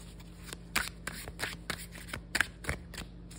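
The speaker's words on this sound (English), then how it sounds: "it's just an awesome shuffle." Tarot cards are shuffled by hand, a run of quick papery riffles and snaps in uneven bursts, close by and fairly loud.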